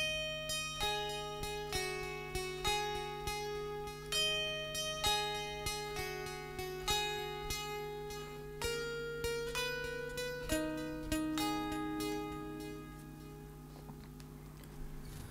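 Clean electric guitar run through an Axe FX digital stereo delay set to full mix with moderate feedback, playing a slow sequence of plucked, ringing notes whose echoes trail behind each pick, quiet and spacious with no talking.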